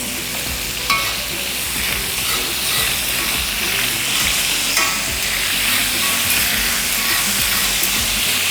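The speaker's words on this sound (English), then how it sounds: "So we're going to start off by stirring off the squid." Squid frying hard in a pan for Spanish paella while being stirred, a loud, dense, continuous sizzle close up with occasional scraping pushes of the utensil.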